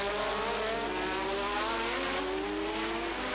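Formula 1 race cars at the 1986 Grand Prix, a continuous high-pitched engine whine holding steady with rising harmonic tones, loud and sustained throughout.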